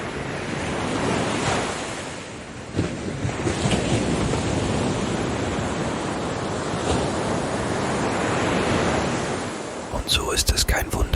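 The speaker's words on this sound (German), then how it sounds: "das Rauschen der Wellen, das all deine Sorgen einfach wegspült" Ocean waves breaking on a shore in a continuous loud surging roar, with strong wind buffeting the microphone and a few sharp knocks at the end.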